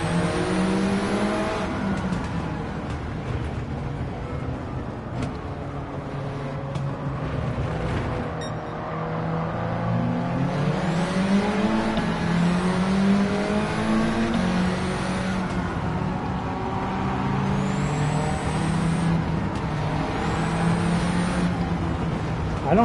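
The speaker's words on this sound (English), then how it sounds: "I think it's just burning the tires off." Engine-swapped Mini Cooper in Gran Turismo 7 revving hard and steadily throughout, a loud continuous engine drone with rising and falling pitch sweeps and wheelspin, a voice talking faintly over it at times.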